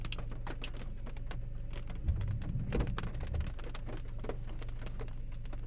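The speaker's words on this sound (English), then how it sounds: "Very, very small hail right now." Tiny hailstones pinging and ticking on a vehicle during a Kansas–Nebraska thunderstorm, a steady scatter of sharp little clicks over rain hiss and a low rumble of thunder, moderately faint.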